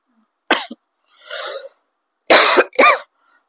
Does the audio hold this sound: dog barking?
no